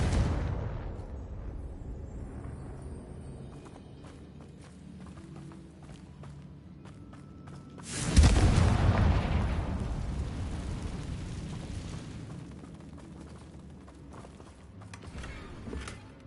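A Confringo explosive spell blasting in Hogwarts Legacy, heard as a sudden booming burst that rolls into a long rumbling decay, with quieter creaks and footsteps before and after.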